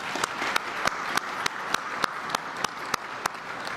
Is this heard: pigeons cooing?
no